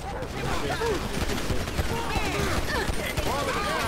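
Gunfire rattles through a chaotic shootout in GTA 5, rapid overlapping shots crackling at mid distance as shouting voices talk over the steady barrage.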